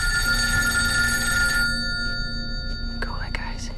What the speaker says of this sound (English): Hey, it's just a phone, right?